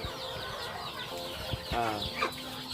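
Chickens and ducks on a village farm in Indonesia: soft clucking and a few short squawks close by, with steady faint outdoor background noise.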